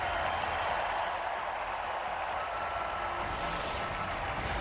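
An arena crowd at an NHL season opener applauds and cheers in tribute, a dense, steady wash of clapping and voices that holds at even loudness throughout, with no talk on top.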